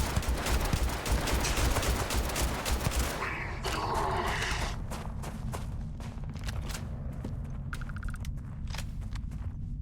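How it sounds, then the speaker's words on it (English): Enemy gunfire in the Starfield video game: dense bursts of rapid shots crowd the first few seconds, then thin out into scattered single cracks and clatter over a steady low game rumble. "they're shooting up in the air"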